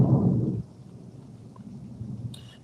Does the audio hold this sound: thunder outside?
yes